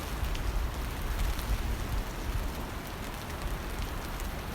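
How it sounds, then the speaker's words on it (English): Steady rain falls outdoors, a dense, even patter on surfaces that stays constant and fairly soft throughout, with no voices. "The rain's coming down."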